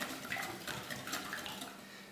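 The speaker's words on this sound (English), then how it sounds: "I'm going to break up the yolks and then whisk them violently" Six large eggs are whisked hard in a bowl, and a metal whisk clinks against the sides in a quick, steady rhythm. The sound is close and fairly quiet, with no one talking over it.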